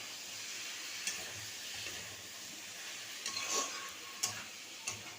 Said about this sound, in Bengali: দেখতেই পাচ্ছ যে বাঁধাকপিটা আমি আলুর সাথে ভালো করে নাড়িয়ে নিচ্ছি